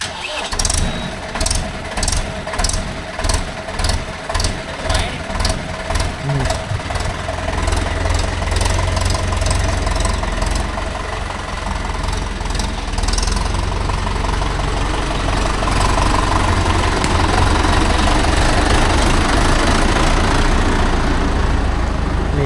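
A Mahindra Yuvo Tech Plus 585 DI 4WD tractor engine cranks with rhythmic pulses for several seconds, then catches and settles into a loud, steady diesel running roar close by.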